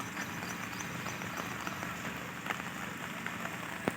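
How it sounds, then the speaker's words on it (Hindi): Steady rain patters down over a mountain village in Azad Kashmir on a misty morning, a continuous dense hiss with scattered sharper drops close by, no voices. "बारिश फुल लगी है"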